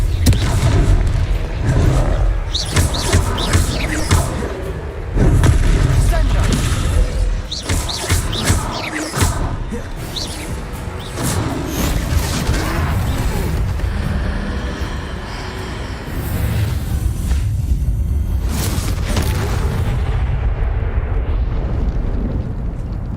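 Fiery blasting-spell explosions from the Hogwarts Legacy game boom repeatedly in quick succession, loud and dense with rumbling low end, layered over battle clamor and music.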